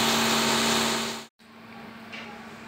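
A tuned 2021 Mitsubishi Xpander engine idles at about 750 rpm with a steady, even hum. The sound cuts out briefly midway, then returns quieter and smoother.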